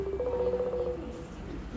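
A phone being dialed to place a call, with a short run of steady electronic tones near the start, then a low murmur of room noise.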